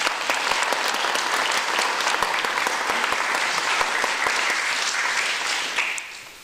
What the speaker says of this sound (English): I think we need an interim applause at least